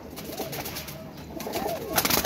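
Pigeons coo in a continuous, moderately loud chorus with rising calls and scattered chirps, near and without voices.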